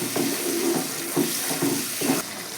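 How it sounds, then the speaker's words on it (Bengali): Tap water runs in a steady stream to rinse leftover spice paste from a bowl while cooking a capsicum paneer curry, a continuous close splash with a few slightly louder surges and no talking. "বাটিতে যে মশলাটা লেগেছিল সেই মশলাটা আমি একটু জল দিয়ে ধুয়ে দিয়ে দিচ্ছি।"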